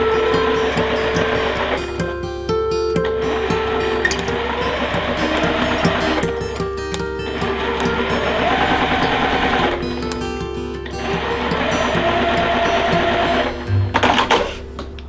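A sewing machine stitches a quilt block in several bursts of fast, even whirring, pausing briefly between runs, with a short clatter near the end.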